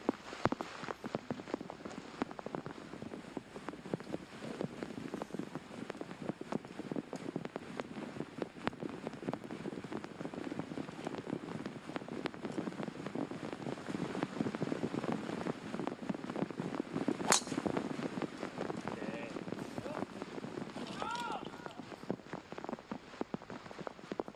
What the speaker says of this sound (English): Looks like it might just turn out to be a bit of a downpour, so Park teeing off for the 14th as well.